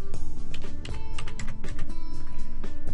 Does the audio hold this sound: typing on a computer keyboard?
yes